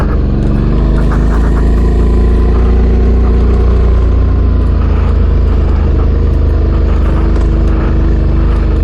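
Suzuki V-Strom 650 motorcycle engine with a steady, loud low rumble close by and a slight rise as the throttle opens while the rear wheel spins, with no talk.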